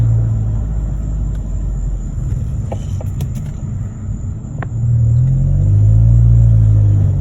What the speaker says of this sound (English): All right, so I'm just driving.